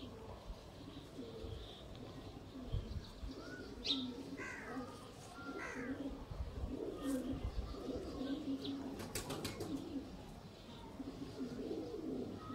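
Sialkoti 35-wala pigeons coo in soft, repeated rolling calls with occasional chirps, mid-distance and fairly quiet over light background noise, with a voice murmuring faintly.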